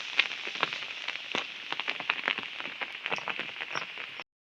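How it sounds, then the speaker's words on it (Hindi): Steady heavy rain falls from overnight into morning near Rewalsar Lake in Mandi, Himachal Pradesh, a dense close hiss speckled with sharp drop impacts and crackles, loud and constant, then cutting off abruptly. "रात से बारिश हो रही है लेकिन रुकने का नाम नहीं ले रही है"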